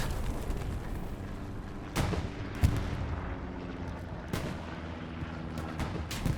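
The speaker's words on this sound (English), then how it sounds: "Churchill blows up." A Churchill tank blowing up in a battle game at Tobruk, a steady rumble of distant gunfire and artillery with a few sharp blasts, no talk.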